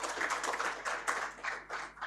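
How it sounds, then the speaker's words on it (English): Audience applause at an Indian transport summit's opening session, a soft, distant, rippling wash of many hands clapping that swells and dips in waves, faint against the room. "Let's have a loud round of applause for him."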